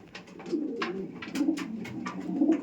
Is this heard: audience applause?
no